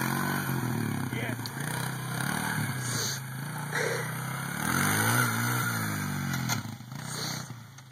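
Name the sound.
four-wheeler ATV engine revving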